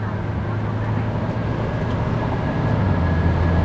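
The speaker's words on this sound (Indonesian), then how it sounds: "Ini suara angin masih dikit." Steady wind rush at the window of a Toyota Innova Reborn cruising at 120 km/h on a toll road, a continuous loud roar blended with low road and engine drone, with no talking.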